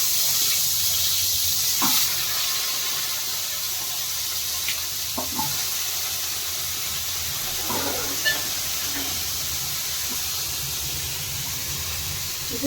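Washed jackfruit seeds hiss steadily in a pan with half a spoon of oil, a continuous sizzle lasting throughout, with a few faint clicks and taps of utensils scattered on top.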